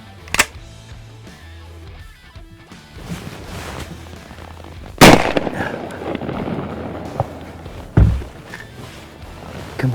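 Shotgun blasts during a duck hunt ring out outdoors, one near and loud at the start, a heavy double-crack blast mid-clip and another sharp shot later, with rustling and movement between them.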